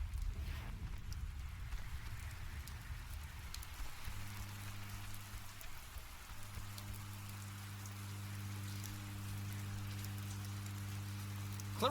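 Steady rain falls in a rainstorm in the video game Oxenfree, a constant hiss with low tones from a sustained background hum starting partway through.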